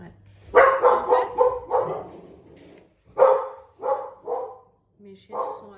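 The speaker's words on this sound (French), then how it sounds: "Mes chiens se sont agacés tout seuls." Pet dogs indoors bark in short bursts, a cluster of sharp yaps then a few more after a brief pause, loud and close.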